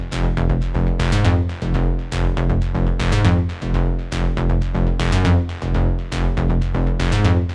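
An EBM industrial synth bass line plays its call phrase: punchy, rhythmic bass notes in short repeating bursts with deliberate gaps between them, loud and clear with no voices.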